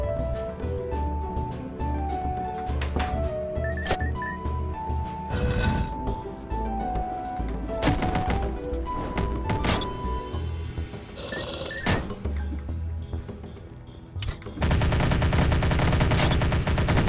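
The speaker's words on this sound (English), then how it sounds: "This is why we have guns, guys, so we can shoot spiders in the face." Guns firing at spiders in the game Dungreed, with quick rapid shot bursts over chiptune-style game music, ending in a sudden harsher burst of noise.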